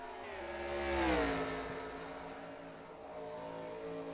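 Stock cars race in an iRacing game, one engine rising to a revving pass that peaks and drops in pitch as it goes by, then a steady drone of the remaining cars.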